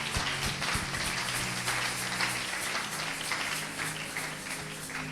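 A church congregation applauds in praise of the Spirit of God, a continuous wash of many hands clapping at moderate distance, steady throughout.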